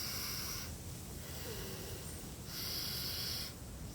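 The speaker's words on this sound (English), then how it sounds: "Nadi Shodhana, for example, the alternating breath" Quick Nadi Shodhana alternating-nostril breathing: rapid, airy nasal inhales and exhales alternate in a steady rhythm, close and fairly loud, with no talk.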